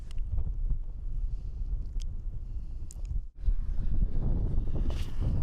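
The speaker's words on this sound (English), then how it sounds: "That wind's cold though." Steady cold wind gusting across a winter campsite, a continuous low roar buffeting the microphone with a brief dip in the middle before it picks up again.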